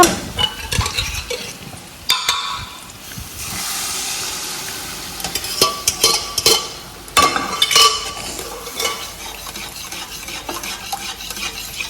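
Dal tempering fries in a pan while a utensil stirs it, giving repeated scraping and clattering strokes over a hissing sizzle, close and fairly loud, with no talking.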